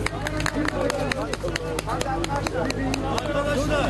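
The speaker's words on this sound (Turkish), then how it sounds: "Elif bebeğe kocaman bir alkış" Applause and cheering from a crowd at an earthquake rescue site as a three-year-old girl is pulled from rubble after 65 hours, steady clapping mixed with excited chatter and a voice talking over it.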